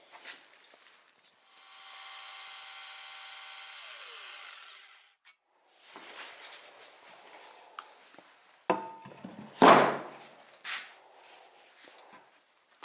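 A power tool cuts holes in a sailboat rudder on a Rob Roy 23, with a steady whining run of about three seconds, then scraping and rubbing, and a loud brief burst of cutting noise near the end.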